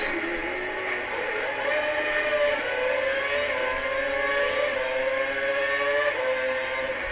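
Formula 1 car at the Korean Grand Prix circuit in Yeongam in a racing video game, its engine note falling steadily as it brakes hard into a corner, a loud continuous tone with no voices.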